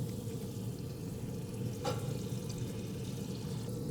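A tablespoon each of butter and chili-infused oil sizzle in a skillet with a close, even hiss and soft crackle. A brief sharp spatter pops up near the middle before the sizzle settles back to a steady simmer.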